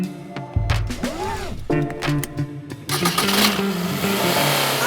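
A Maruti Suzuki Dzire 2017 with an AMT gearbox pulling away and accelerating, its engine note rising through revs, loud and close with a gear change partway.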